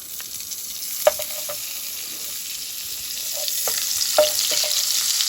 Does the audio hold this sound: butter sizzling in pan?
yes